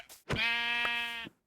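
A sheep in a farming video game lets out one clear, sustained bleat lasting about a second, loud and close, with a short faint noise just before it and no talk over it.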